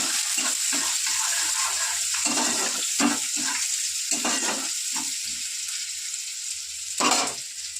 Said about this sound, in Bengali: তো তেল দিয়ে দিলাম, তেল কিন্তু ভালো গরম হয়ে গেছে। তো তেলটা পেঁয়াজটা একটু লাল লাল হবে,